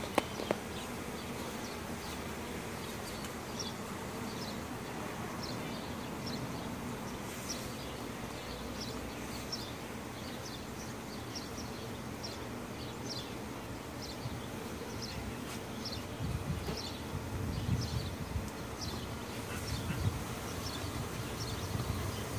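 Dense, steady buzzing of many honey bees swarming around an open backyard hive with exposed brood comb, a continuous close drone filling the whole stretch without speech.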